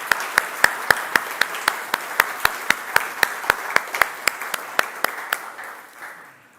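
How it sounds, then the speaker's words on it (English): A church congregation applauds its volunteers during a service, with sharp, distinct claps ringing out in a fairly even rhythm over a softer crowd wash, gradually thinning and fading out. "let's give them a round of applause for another successful year"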